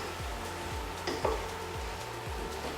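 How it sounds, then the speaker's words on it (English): Carrots and other vegetables stirred in a pot as they soften, a soft continuous sizzle with a few light scraping knocks, close and steady, no speech. "And again, just give that a good stir through."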